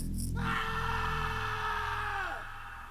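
A person screams in an animated horror story, one long sustained yell at close range that falls off sharply near the end, with a dull background underneath.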